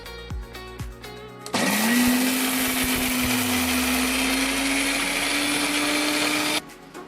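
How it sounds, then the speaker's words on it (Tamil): A kitchen mixer grinder grinding soaked lentils starts abruptly and runs with a loud, steady whirring drone for several seconds, then cuts off. "சேர்த்து அரைச்சி எடுத்துக்கலாம் மிக்ஸியில்."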